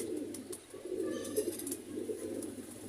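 Sialkoti pigeons coo in low, repeated throaty murmurs that roll steadily through the whole moment, close and moderately loud, with faint twittering above and no talking.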